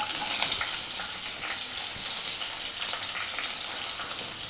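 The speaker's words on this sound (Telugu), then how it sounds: "ఈ పులావ్ దినుసులన్నీ వేసి కొద్దిగా లైట్గా వేగనివ్వాలి." Whole pulao spices frying lightly in oil in a pot make a soft, even, hissing sizzle, fairly faint and continuous, with a few faint stirring touches and no talk.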